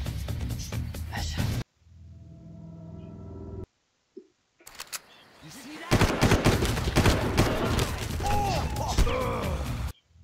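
Gunfire from the video game Far Cry, loud bursts of shots in dense clusters with a quiet gap between, with voices reacting over the action.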